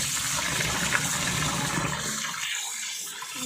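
Rice is washed in water for making puttu, giving quiet sloshing and swirling water noise that thins out near the end, with no voices.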